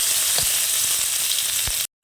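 Ground spice paste hits hot oil already crackling with fried nigella seeds, a steady close sizzle with two brief low thumps from the pan before it cuts off abruptly.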